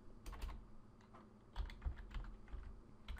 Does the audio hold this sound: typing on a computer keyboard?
yes